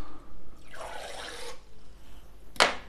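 A small dose of liquid fertilizer solution is poured into a container of water, giving a soft splashing pour for about a second, then a short sharp splash close by; faint and quiet overall.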